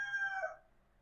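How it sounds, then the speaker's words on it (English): A rooster crows once outside, a single short, fairly faint call that trails off quickly into quiet background. "See, there are chickens again."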